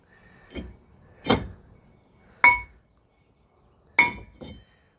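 Metal washers for large bolts from a 1987 Corvette C4 brake caliper bracket clink as they are handled, four or five sharp bright isolated taps spaced over a few seconds in a quiet room.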